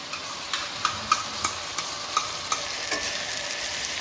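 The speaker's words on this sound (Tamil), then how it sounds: "இப்போ தக்காளி நல்லா வதங்கி வரட்டும்" Ground tomato sautéing in a pan for an oil brinjal curry, a low steady sizzle broken by a string of light, evenly spaced spatula scrapes and taps.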